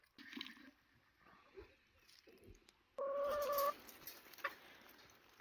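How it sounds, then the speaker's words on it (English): Chickens cluck and squawk nearby, with one loud, drawn-out call rising above scattered softer clucks. "I got the chickens all excited when I got the perlite. Now they want treats."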